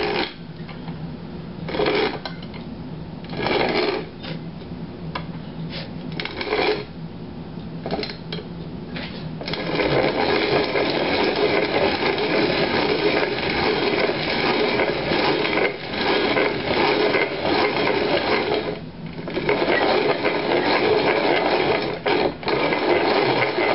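A hand-cranked grain mill grinding grain, with rattling, clattering bursts in the first ten seconds, then continuous loud grinding that keeps going with brief pauses.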